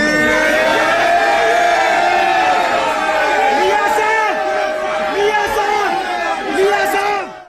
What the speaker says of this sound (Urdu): گھر پہنچتے ہی وہاں موجود لیگی کارکنان نے قائد کو دیکھتے ہی زبردست نعرے بازی کی